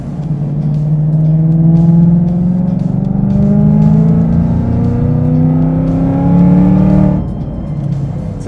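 A Ford Mustang with a freed-up exhaust and custom tune, about 670 hp, revs up in long rising pulls, loud and close, the engine note climbing steadily before dropping off near the end.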